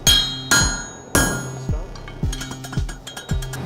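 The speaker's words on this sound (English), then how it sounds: "I will guide you with where I'm striking with my hammer to show you where I want it to be." Hammer striking hot steel while forging a sword, with loud, ringing metallic blows at an uneven rhythm, some strikes closely spaced and lighter clinks between them.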